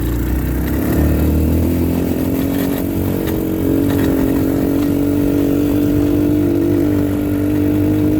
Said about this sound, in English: You can hear it spitting and sputtering. That is because that carburetor, once again.